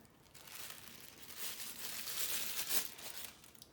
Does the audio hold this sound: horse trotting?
no